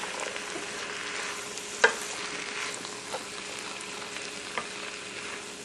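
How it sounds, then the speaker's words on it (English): Drained and rinsed canned black beans being stirred into a simmering, sizzling soup pot, with a steady bubbling hiss and a few soft spoon knocks, one sharper clink near the middle. "I'm going to take 1 can of these black beans that have been drained and rinsed, and then we'll mix those in."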